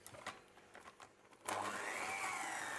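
An electric mixer whips a batch of homemade body butter tinted with mica, starting after a few faint knocks and then whirring steadily and quietly in the background.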